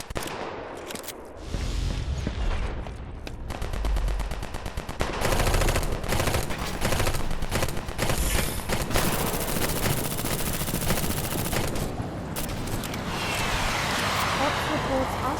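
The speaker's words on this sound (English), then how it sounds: "Our base is under enemy fire." Rapid machine-gun bursts and scattered shots ring out as enemies attack a base in the Eximius video game, dense and loud throughout with short pauses, and a voice speaks over the fighting.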